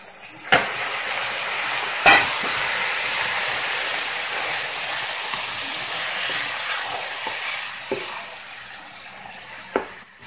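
Pork hits hot caramelized sugar with garlic and ginger for a Lao caramelized pork stew, raising a loud, steady sizzle broken by several sharp clanks of a utensil against the pan.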